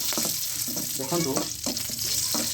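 Spices crackle and sizzle in hot refined oil for an egg curry, a close, steady frying sound with bursts of popping and some stirring.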